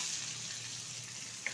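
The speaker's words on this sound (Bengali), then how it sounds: "টমেটো আর পেঁয়াজটা ভালোভাবে একটু নেড়ে চেড়ে ঘিয়ের সাথে ভেজে নেব" Chopped onion and tomato sizzling in ghee in a pan, a quiet steady frying hiss with a soft clink near the end.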